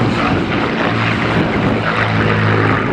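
A Messerschmitt Bf 109 fighter's piston aircraft engine drones loud and steady with a propeller buzz as it flies at the Duxford Flying Legends 2016 air show, with no speech.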